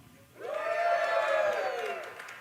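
A live audience in Las Vegas erupts into cheering and whooping, a loud swelling crowd roar that rises abruptly, holds for over a second and tapers off.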